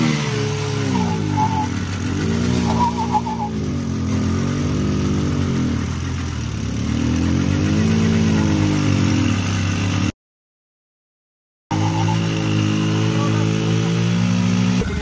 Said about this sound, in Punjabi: ਹਰਵੀਰ ਆ ਗਿਆ ਸਪਲੈਂਡਰ ਤੇ ਆਪਣੇ ਤੇ ਗਾਈਸ ਹੁਣ ਸਟਾਰਟ ਹੋਣ ਲੱਗਾ